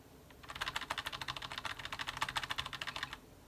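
A single computer keyboard key, F12, tapped rapidly and repeatedly while booting an old PC, giving a steady fast run of crisp clicks for about two and a half seconds, close and clear.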